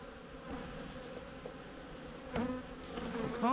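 Honey bees buzz in a dense, continuous drone close up during an Api-Bioxal trickle treatment of the hive, with a few sharper whines as individual bees fly near.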